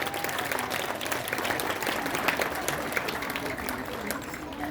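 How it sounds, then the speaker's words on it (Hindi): Audience at an International Day of Persons with Disabilities celebration applauds after a musical performance, sustained crowd clapping, dense and even throughout, with a faint voice murmuring underneath. "अगर पसंद आई है तो एक बार जोरदार तालियां"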